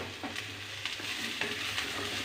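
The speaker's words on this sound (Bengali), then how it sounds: "একটু নাড়াচাড়া করে মিশিয়ে নেব।" Potatoes stirred into fried onions and slit green chillies in a hot pan, a steady sizzle of frying broken by a few scraping stirs of a spoon against the pan.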